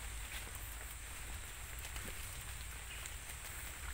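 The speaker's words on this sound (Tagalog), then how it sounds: "Malakas na yung ulan" Heavy rain outdoors at a wild chicken trap hisses steadily without a break. It is faint, with occasional soft patters.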